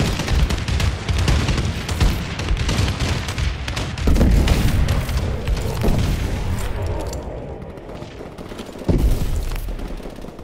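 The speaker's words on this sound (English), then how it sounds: "Friendly bombing run clearing the way." Friendly bombing run strikes in Advanced Warfare Exo Survival on the Detroit map, loud rolling booms and bursts of gunfire crowding together, with fresh heavy impacts near four and nine seconds.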